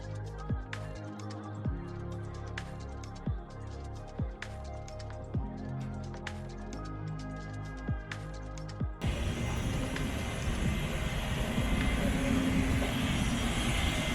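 Soft, plucked music plays, then cuts abruptly to the steady roar of a Boeing 787-10 airliner's engines nearby at the gate.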